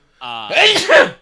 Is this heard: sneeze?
yes